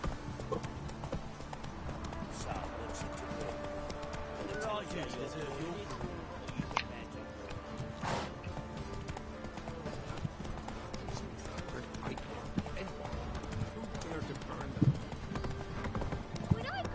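Roach the horse galloping in The Witcher 3, a rapid, continuous clip-clop of hooves over a busy game soundscape, with a brief whinny and a voice speaking over it.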